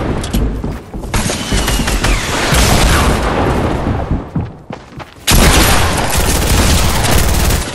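Loud gunfire in an online shooter game, with dense overlapping shots and booms that drop off briefly, then resume at full intensity close up, with no talking.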